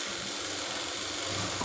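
Sewing machine stitching a curved seam on the front pocket of school trousers, a steady continuous mechanical whir running evenly throughout at moderate level with no talk.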